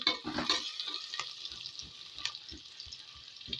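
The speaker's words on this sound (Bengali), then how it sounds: "পেঁয়াজ কুচিটা কিছুক্ষণ নাড়াচাড়া করে একটু বাদামি রং আনতে হবে" Chopped onions frying in a pan, stirred with a utensil: a steady bright sizzle with soft rhythmic scraping knocks every half second or so, close and moderately quiet, no voices.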